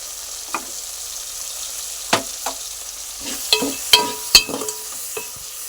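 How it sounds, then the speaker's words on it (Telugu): Tomatoes cook in a pan of okra stew with a soft, continuous sizzle, broken by several sharp clinks and scrapes of a spoon stirring against the pan. "టమాటా వేసి మగ్గనివ్వాలి."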